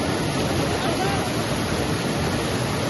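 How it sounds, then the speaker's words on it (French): A strong river current rushing near waterfalls in Okinawa, a loud, dense, unbroken roar of water filling the whole moment with no pauses. "Et il y a un courant de ouf là."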